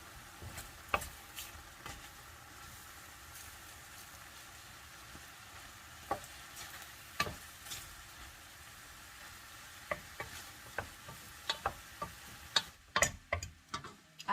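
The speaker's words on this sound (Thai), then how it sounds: "พัด พัด พัดให้เข้ากันค่ะ" Dry suki being stir-fried in a pan, a steady sizzle and frying hiss broken by frequent sharp clicks and scrapes of a utensil against the pan, growing busier toward the end, with no talking.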